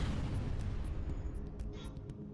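Spaceship weapons firing on an enemy vessel in the FTL space combat game, a dense rumbling barrage of booming blasts filling the low end throughout, with scattered sharper hits on top.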